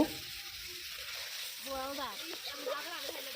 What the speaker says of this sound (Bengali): এখন আদা রসুনকে খুব ভালো মতো ভেজে নেব